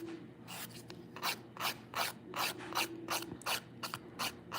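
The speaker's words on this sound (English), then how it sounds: "if you go too heavy with your filing or put too much pressure, you can cut into those glitters" A 180 grit nail file scrapes across dip powder nails near the cuticle line, giving a steady series of rhythmic rasping strokes, close and fairly quiet, about a dozen short passes in a row.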